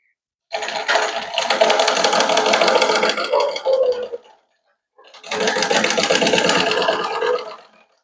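Sewing machine stitching a blouse with a light frill, running in two steady bursts of rapid rhythmic clatter separated by a short pause, close and fairly loud with no talk.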